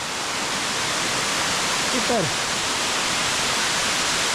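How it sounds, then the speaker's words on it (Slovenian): Stegovnik waterfall near Tržič, Slovenia, pours as a steady, full broadband rush of falling water throughout, with a person briefly speaking once over it. "Stegovniški slap še z te strani. Kar lepo voda teče."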